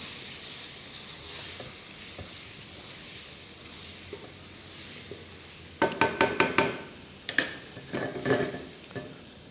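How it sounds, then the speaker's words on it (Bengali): Marinara sauce with tomato meat cooks over slow heat with a soft, continuous bubbling sizzle, then a run of sharp spoon scrapes and taps against the pot. "আমাদের সসটা এখন স্লো হিটে কুক হবে।"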